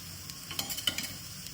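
Oil spread over a drying masala dosa on a hot griddle gives a soft, steady sizzle, with a few light scraping or stirring ticks close by and no voices.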